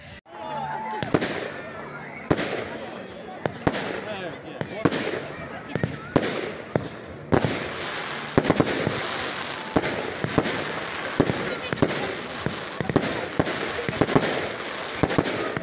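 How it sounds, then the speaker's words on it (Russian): Holiday fireworks salute over a village for Russia Day, with sharp repeated bangs and crackles that grow into a dense, continuous barrage in the second half, heard from a moderate distance. "Сегодня в нашем селе будет произведен праздничный салют в честь Дня России."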